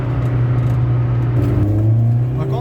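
A Peugeot 206 1.6L 16v with a TU5JP4 engine, MA gearbox and a newly fitted Torsen limited-slip differential drives along with a steady, loud engine drone. The pitch shifts midway as a gear changes, and people talk over it.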